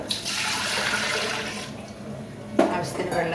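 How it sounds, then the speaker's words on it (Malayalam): Water splashes from a tap into a pressure cooker holding whole potatoes, a steady rushing pour for about two seconds that tapers off, followed by a short clank, with a voice talking quietly over it. "അതിനെ കുക്കറിൽ ഇട്ടിട്ട് വേണ്ട ആവശ്യത്തിന് വെള്ളം ചേർത്ത്"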